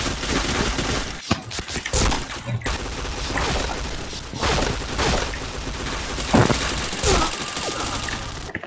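Video game gunfire rattles in dense, rapid bursts almost without pause, loud and close, with sharper shots standing out now and then.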